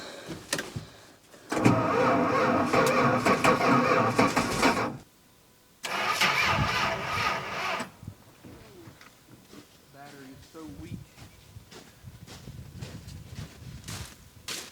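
An old car engine cranking and firing on a cold start in below-zero temperatures, with two loud bursts of churning cranking separated by a short gap, then quieter engine noise, clunks and voices talking.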